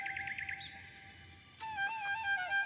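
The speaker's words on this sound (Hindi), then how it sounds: "पक्षियों की अत्यंत मधुर बातें सुनकर सीता ने उन्हें मन में धारण किया" Birds chirping, a quick run of high repeated tweets followed after a short pause by clear, bright whistled calls with sliding notes, close and fairly quiet over faint background noise.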